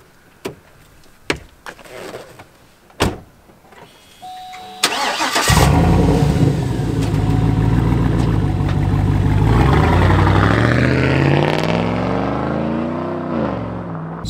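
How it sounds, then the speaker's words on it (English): A Cadillac Escalade V8 running with its muffler removed: a few sharp clicks and knocks, then the engine fires up into a loud, raw, rumbling idle and revs up and down, close and unmuffled. "the sound of the V8 is absolutely amazing, and that is because I actually removed the muffler of this car"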